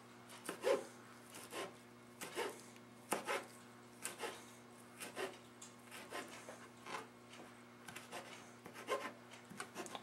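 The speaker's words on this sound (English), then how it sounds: "I've been taught a good technique to chop basil is to just kind of twirl it." A knife slicing through a rolled bundle of basil leaves on a cutting board, with soft rhythmic strokes about once per second, quiet and close, no voices.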